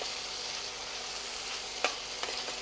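Tomatoes cook with onions in a pan for a Marwari potato-in-yogurt curry, producing a steady close sizzle with a few sharp spoon scrapes toward the end, no one speaking.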